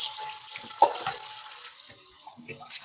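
Water runs steadily from a kitchen tap into the sink, a continuous hiss that shifts slightly in flow with a few soft clunks and splashes near the end.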